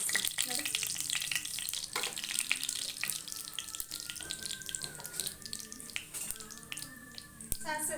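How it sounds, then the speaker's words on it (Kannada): Mustard seeds crackling and sizzling in hot oil in a pan as a bitter gourd stir-fry is started, a steady close frying hiss with light clatter throughout. "ಇಲ್ಲಿ ನಾನು ಒಂದು ಸ್ವಲ್ಪ ಸಾಸಿವೆ ಸೇರಿಸ್ತೀನಿ"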